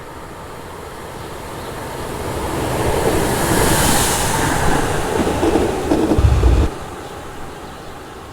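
A Class 37 locomotive hauling a railhead treatment train passes near Micklefield, a sustained loud rumble and rush of wheels that swells through the middle and then eases, with no talk.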